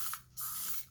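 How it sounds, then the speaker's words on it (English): Hairspray hisses from an aerosol can onto damaged drywall in two quick close bursts, a short puff followed by a longer spray, with no talk. "Hairspray."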